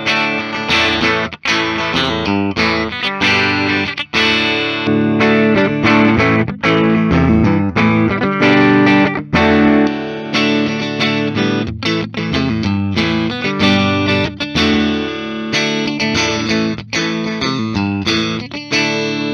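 A distorted 2010 Gibson Custom Shop Jimmy Page #2 electric guitar plays a chunky riff with rhythmic chords and brief muted stops, loud and up front with no voices.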